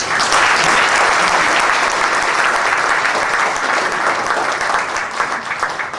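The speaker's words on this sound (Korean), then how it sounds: "좀 박수를 좀 해주세요" Audience applauds at an honorary business doctorate ceremony, a dense, loud wash of clapping that holds steady throughout and thins slightly near the end.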